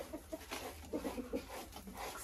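Laying hens on a dacha peck at feed shell grit, clucking in soft, quick bursts with faint tapping, fairly close and without talk.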